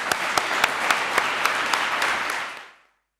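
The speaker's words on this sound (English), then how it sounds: "I would like to ask everybody here to applaud the excellent organization" An audience at a spring conference session gives brief applause, with sharp claps standing out over a steady wash of clapping before it cuts off after under three seconds.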